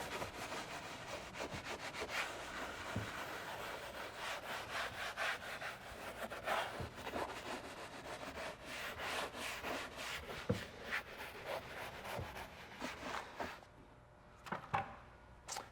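Continuous rapid back-and-forth brush scrubbing on car interior vinyl and plastic trim, a close, steady rasping rub with brief pauses and no voices.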